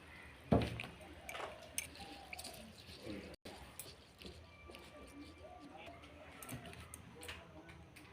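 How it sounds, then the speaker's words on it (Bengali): 50 g of Gobindobhog rice is washed in a little water, with soft sloshing, squishy swirling and dripping sounds under a quietly talking voice. "প্রথমে অল্প জল দিয়ে চালটাকে আমি ধুয়ে নেব।"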